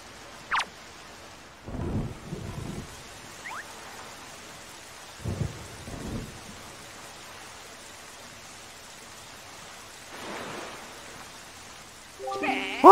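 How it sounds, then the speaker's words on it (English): In The Legend of Zelda: Wind Waker, a storm at sea sends dull low thunder rumbles in a few separate bursts over faint rain hiss, with a brief chiming game effect at the end. "And we keep running into thunderstorms."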